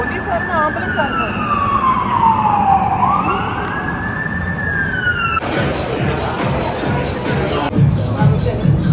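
Wailing emergency siren, police car or ambulance, sweeping up and down loudly on a downtown Toronto street during an evening walk, passing close by amid traffic rumble and city noise, with voices talking nearby.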